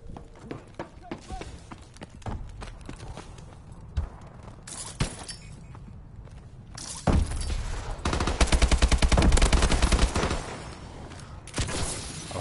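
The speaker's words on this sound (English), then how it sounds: "who the hell was shooting that dude with me?" Gunfire in a Call of Duty match, with rapid bursts of automatic fire that swell loud in the second half amid layered game effects, mixed with people talking.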